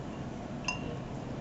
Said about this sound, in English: I'm taking my TLC plate out of my beaker